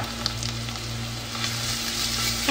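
Ingredients sautéing in olive oil in a pot give a steady, close sizzle with a low hum beneath it and faint stirring scrapes now and then.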